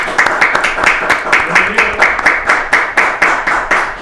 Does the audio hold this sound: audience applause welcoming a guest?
yes